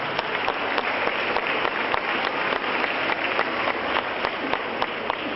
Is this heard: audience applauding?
yes